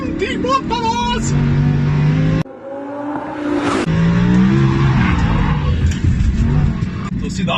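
A fast car driven hard on a race track, engine roaring loud and close with tyre squeal through the corners, a brief dip in the middle, while people talk excitedly over it throughout.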